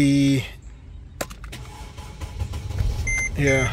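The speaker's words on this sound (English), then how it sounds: "The car starts" A Mercedes R, GL or ML-Class with wet carpets and a no-start fault is started. Electronic warning chimes sound first, then a few clicks, and an engine rumble rises and settles into a low running drone, with chimes again at the end.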